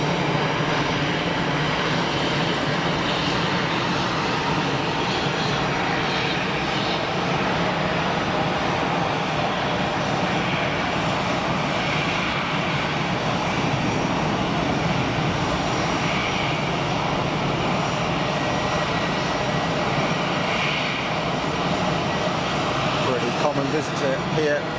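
A Gulfstream G500 business jet climbs out of Geneva Airport, its engine roar loud and steady throughout as a broadband rumbling wash, with a voice talking faintly underneath.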